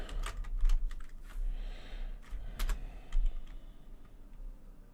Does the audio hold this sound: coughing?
no